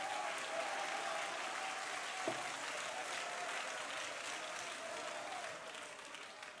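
A church congregation claps hands in praise during a youth-week worship service: dense, steady applause fills the whole stretch and tapers off slightly toward the end.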